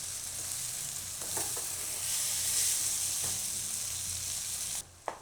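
Mixed vegetables and tomatoes for a Gujarati mix bhaji ghuto sizzle steadily in a pan, a continuous close frying hiss with a few stirring taps, cutting off abruptly near the end, with no talk.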